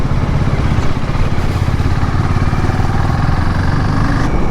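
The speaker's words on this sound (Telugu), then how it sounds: "నేను ఇంకా మా ఫ్రెండ్ ఇద్దరం కలిసి మా 2 బైకులు తీసుకొని అయితే వెళ్తున్నాం" A motorcycle ridden along the road toward Baga Beach in Goa, its engine droning steadily and loudly up close with wind buffeting, no talk.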